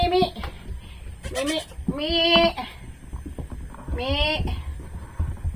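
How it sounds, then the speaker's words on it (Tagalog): Two baby goats belonging to a farmer bleat in a few wavering, high cries nearby on a rural Philippine farm, with a person talking softly between the calls. "Baby kanding ng tatay ko, dalawa"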